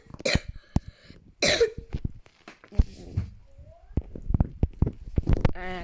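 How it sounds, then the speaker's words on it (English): A single cough in a voiced, kid-style role-play game among characters, surrounded by other short vocal bursts and chatter with no clear words. "I accidentally coughed"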